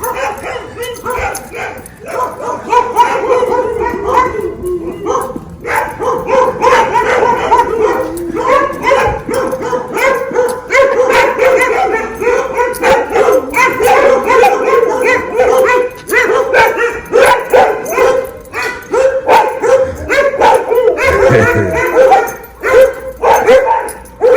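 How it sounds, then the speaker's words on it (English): Several neighborhood dogs on a residential block bark continuously and loudly, overlapping yips and bow-wows layered in a constant chorus with occasional whimpers. "Every house on this particular block, goddamn dogs."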